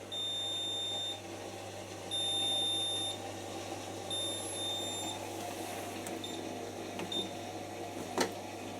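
A washing machine's beeper sounds three evenly spaced electronic tones, each about a second long, over a steady low hum, followed by faint clicks and a brief knock.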